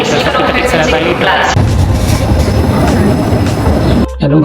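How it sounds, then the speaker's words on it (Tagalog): A train pulls into a station in Lucerne, Switzerland, producing a loud, continuous rumble and rattle of wheels and carriages. The noise drops off abruptly near the end. "nandito tayo sa loob ng tren."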